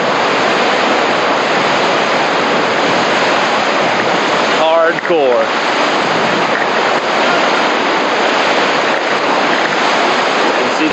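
Whitewater rapids on the Nolichucky River roar loud and constant through the whole stretch. A brief voice cuts in near the middle, and wind buffets the microphone.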